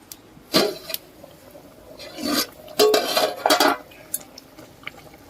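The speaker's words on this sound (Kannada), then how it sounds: "ನೋಡ್ರಿ ಒಂದು ಸಲ ತಿರ್ಸ್ಕೊಂಡ್ಬಿಡ್ತೀನಿ" A spoon scraping and knocking against a pot while stirring chicken curry, with several separate clanks and scrapes spaced unevenly, close and fairly loud, no voices.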